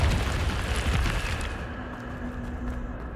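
Confringo spell explosion in Hogwarts Legacy, a loud rumbling blast that starts at full force and slowly decays into a lingering low roar.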